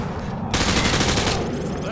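Weapon fire penetrating light cover during a training demonstration in Call of Duty: Modern Warfare 2, a loud sustained burst of rapid shots lasting under a second over a steady background of game ambience and murmur.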